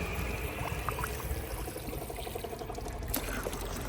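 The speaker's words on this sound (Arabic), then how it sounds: "احلى حاجه الفونتانات اللي بتبقى في الشارع دي، بتبقى جميله قوي للشرب" Water runs steadily from a street drinking fountain fed by mountain water, a continuous close splashing stream with no talk.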